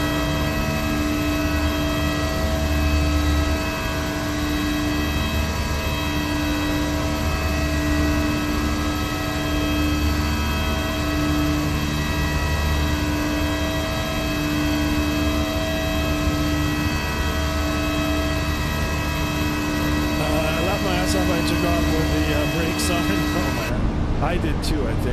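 Fenix A321 jet engines spool up and roar steadily during the takeoff roll in Microsoft Flight Simulator 2024, a loud, continuous whine with a constant low rumble that holds for the whole stretch and shifts slightly near the end.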